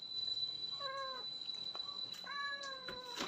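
A cat meows near the microphone before being fed chicken: two clear, drawn-out meows separated by a short pause, over a faint steady background tone.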